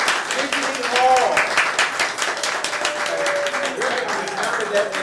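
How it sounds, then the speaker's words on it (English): An audience claps in a steady, moderately loud round of applause at a book celebration honoring an author, while a voice talks over the clapping. "Let's give a round of applause for"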